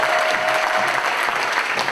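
A round of applause from a conference audience at a Pan-African talks event, brisk dense clapping from many people, loud and steady without pause.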